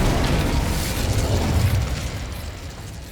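Incendio, a fire spell from the game Hogwarts Legacy, goes off as a loud, close burst of flame and a booming whoosh, then fades over a few seconds.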